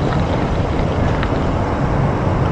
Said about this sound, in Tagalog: Lakas ng headwind.